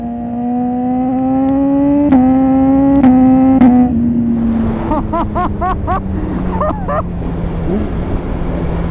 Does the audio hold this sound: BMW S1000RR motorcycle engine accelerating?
yes